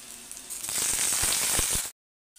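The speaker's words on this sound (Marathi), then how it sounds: "बटाटा आपण व्यवस्थित असा तेलामध्ये परतवून घेऊ" Potato and chilli fry in hot oil with a steady, close hiss and a few crackles, the sizzle cutting off abruptly near the end.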